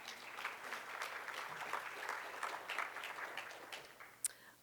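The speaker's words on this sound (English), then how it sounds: "Yay, yay, clap." Sparse, thin clapping from a small audience at a library awards talk, fairly quiet and steady throughout, with one sharp louder clap near the end.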